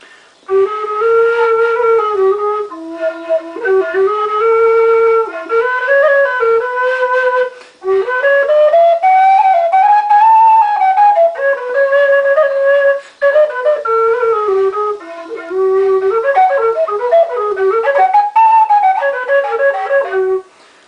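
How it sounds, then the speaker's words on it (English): A wooden fipple flute played like a tin whistle, loud and close, carrying a clear, breathy melody of sustained and ornamented notes in phrases separated by brief pauses for breath. "So I pick it up and I start playing it."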